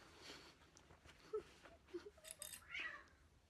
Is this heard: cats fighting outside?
yes